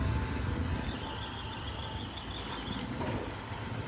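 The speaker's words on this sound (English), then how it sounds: "There's a tuk-tuk." Tuk-tuk motoring along a street in Puerto Viejo, Costa Rica, a steady, fairly loud engine drone with a high squealing whine running through it, no talk.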